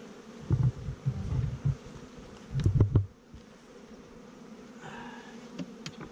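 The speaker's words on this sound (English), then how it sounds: "We have about 8 frames of bees." Honey bees from an opened hive with about eight frames of bees, buzzing in close dense swells that rise and fall, loudest in two bursts near the start and middle, then settling into a steadier, softer hum.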